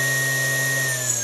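Electric propulsion motor built as a 100cc-equivalent system, running steadily at slow speed around 1300 RPM, giving a loud, continuous whine with a low hum and a high tonal line, close and alone.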